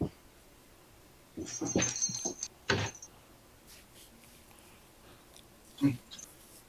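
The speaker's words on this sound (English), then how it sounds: "I think my dog wants to leave my room." A pet dog whimpers to be let out of a room, giving a few short high whines and yelps in two brief bursts with quiet pauses between, close by and fairly soft, with a faint clunk like a door.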